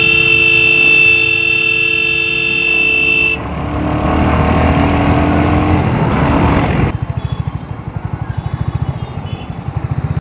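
Royal Enfield Hunter or Meteor motorcycle fitted with a handlebar brace crossbar, engine droning at speed with wind rush, then a steady pulsing single-cylinder thump as it settles, no talk.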